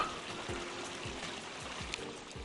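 Water burbles and trickles steadily over rocks in a small creek in Ourimbah Valley on the Great North Walk, a soft continuous flow with faint gurgles, heard close with no talking.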